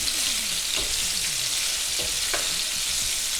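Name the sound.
stirring cherry tomatoes frying in pan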